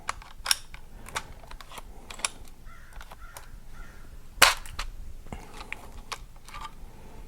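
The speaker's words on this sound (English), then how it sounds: "Takes a little bit of hand pressure just to press these primers into the pockets." Primers pressed by hand into the primer pockets of blank cartridge cases during handloading: a scattering of small, sharp clicks and taps at an irregular pace, fairly close and quiet, with no voices.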